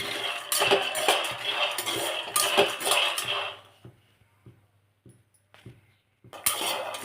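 Peanuts dry roasting in a pan, stirred with a metal utensil: close, loud rattling and scraping for a few seconds, then mostly quiet with a few faint clinks, and a final burst of stirring at the end.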